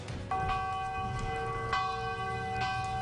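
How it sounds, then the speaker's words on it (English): Large campus victory bells ring out in slow, steady strikes, 41 times, each leaving a long resonant hum that overlaps the next, heard from a distance outdoors. "That's the victory bells on Texas Tech's campus ringing 41 times Wednesday in honor of President Bush."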